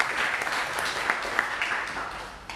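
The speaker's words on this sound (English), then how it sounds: "Let's give him a round of applause as well" Audience applause at a conference on artificial intelligence, a steady moderate clapping with a few distinct sharp claps, tapering off toward the end.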